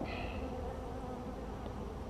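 Honey bees buzz in a steady, droning hum during a hive inspection, a close continuous swarm sound with no talk over it.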